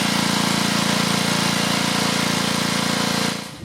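Two-stroke engine of a Mantis mini tiller that sat unused in a barn for about ten years, running at a steady, loud, buzzy idle close by, then cutting off abruptly near the end.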